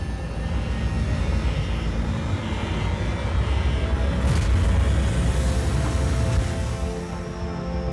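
An aircraft comes in to land at a tower in the mobile MMORPG ARES: Rise of Guardians, a steady, loud engine roar and broadband rush that holds for the whole stretch with no speech.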